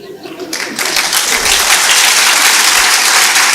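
An audience breaks into applause that swells within the first second into loud, sustained clapping from a large crowd, continuing steadily to the end.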